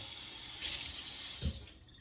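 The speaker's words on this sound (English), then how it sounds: "you just run a little water over it, just a little water" Kitchen tap water runs steadily over frozen hamburger meat to thaw it, a continuous close hiss and splash with a brief heavier gurgle toward the end.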